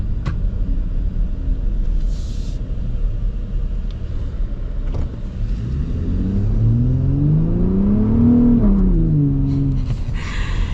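A 2025 Ford Raptor pickup truck's V6 engine rumbles at idle, then revs up with a rising roar and drops back, close and steady.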